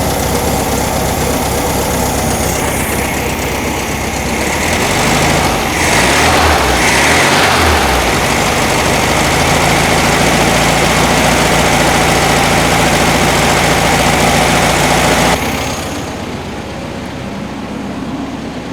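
A 1972 VW Super Beetle's air-cooled engine idles steadily and loudly up close, a continuous low rumble that drops slightly toward the end.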